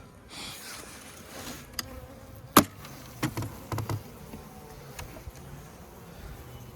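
Faint, steady honeybee buzzing at a hive during a winter cleansing flight hangs in the background, with a few sharp knocks and clicks breaking through now and then.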